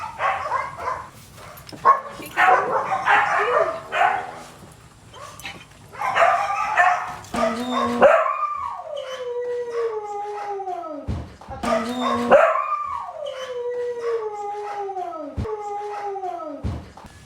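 Several dogs, kept in a temporary spot while their owners' house is being built, bark and then break into long, drawn-out howls that slide downward in pitch, repeating in close, loud waves with a little talk early on.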